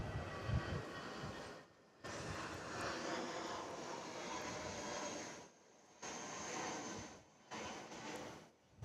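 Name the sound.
Jetstar airliner departing at Sydney Airport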